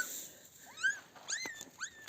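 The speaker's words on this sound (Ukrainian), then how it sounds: "маленька гавкає" A small puppy gives several short, high-pitched squeaky yips and whimpers in quick bursts. The calls are faint and heard alone against quiet background noise.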